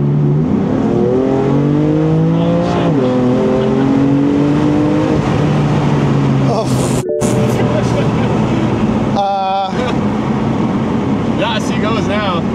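A BMW M3 engine, just repaired after a timing problem, revs loudly and steadily with rising and falling harmonic tones, briefly cutting out near the middle, while people talk over it.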